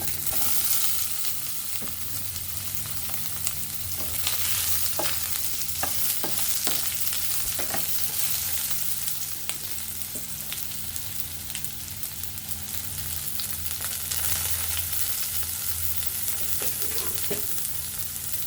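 Chunks of elephant foot yam fry in a pan for a yam and beef curry, giving a loud, continuous crackling sizzle with scattered pops and occasional stirring clatter throughout, and no voices.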